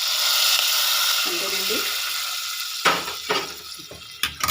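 Hot tempering sizzles steadily as it is poured into a tamarind leaf curry, a continuous frying hiss that is later punctuated by a few clinks of a pan and ladle while someone speaks briefly.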